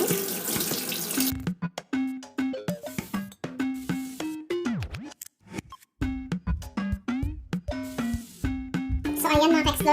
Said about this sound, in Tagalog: Ayan, hugasan natin siyang maigi.